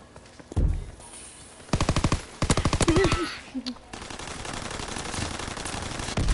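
Video game gunfire comes in rapid automatic bursts, two or three loud clusters of rattling shots close up, with a voice briefly heard between them and a low game background continuing after.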